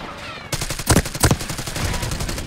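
Bursts of rapid gunfire from Call of Duty Black Ops 6 crack loud and close, with two heavy clusters of shots inside a steady run of automatic fire.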